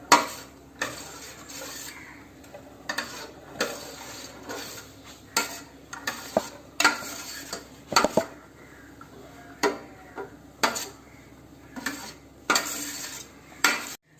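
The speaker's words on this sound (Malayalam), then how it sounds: "ഇത് നമുക്ക് നന്നായിട്ടൊന്ന് ഇളക്കാം." A ladle stirs pazham pradhaman, a Kerala banana payasam, in a pot, scraping and clinking against the metal in a steady series of close, moderately loud strokes roughly every second, with no one talking.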